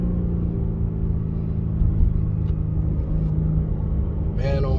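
A 2022 BMW M3 Competition M xDrive accelerates up a highway on-ramp: a steady, heavy engine drone and road rumble heard from inside the cabin, with a brief voice near the end.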